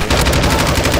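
Rapid automatic gunfire in Call of Duty MW2, a loud, steady stream of closely spaced shots filling the whole moment without pause.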